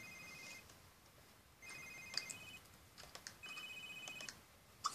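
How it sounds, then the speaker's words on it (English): A phone in The Sims 3 rings in repeated short electronic trills, moderately faint, with clicks and light game sounds between the rings. "the phone ringing gets on my nerves"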